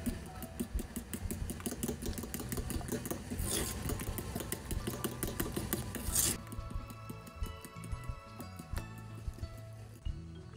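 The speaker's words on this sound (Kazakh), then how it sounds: "2 ас қасық ұнды қосып, жақсылап біркелкі болғанша араластырамыз" A batter of flour and spices is stirred in a bowl: steady, busy scraping and clinking of utensil against the dish runs throughout at moderate loudness, with no talk.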